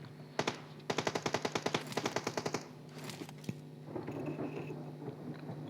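Automatic gunfire in PUBG Mobile, played on a Redmi Note 8 Pro: a rapid burst of about a dozen evenly spaced shots, then a second quick burst, followed by scattered game sounds and soft rustling, no talking.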